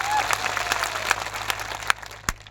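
A crowd claps for the police officers present at an outdoor political rally. The applause is scattered but sustained, with sharp individual claps and a few louder bursts near the end, heard at moderate distance.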